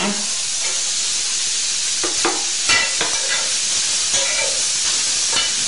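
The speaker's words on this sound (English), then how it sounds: "So we're going to add our broccoli to this." Broccoli and onions cooking in a dry pan with no oil, a steady close hiss and sizzle with a few stirring scrapes and clinks on top.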